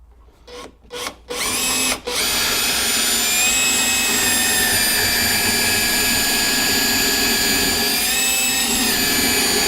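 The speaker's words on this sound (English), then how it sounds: "I'm now going to drill through this string into the edge of that string" A power drill whines steadily and loudly, with a few short bursts at the start before settling into one continuous drilling run through a wooden stair string into the edge of another string.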